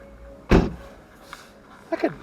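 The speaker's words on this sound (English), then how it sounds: "Close the door." A single solid thump of a 2020 Ford Mustang Shelby GT500's door shutting at an auto show, followed a moment later by a couple of softer clicks and knocks nearby.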